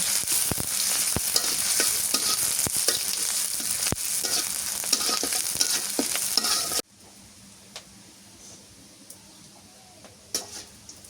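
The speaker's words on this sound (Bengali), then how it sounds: "এবার সরিষার তেল দিয়ে দিই পেঁয়াজ আর মরিচটা ভাজা নিলাম" Onion and chili fry in mustard oil with a loud, close, continuous sizzle and stirring scrapes for about seven seconds, then the sound drops to a quiet background with a few faint clicks.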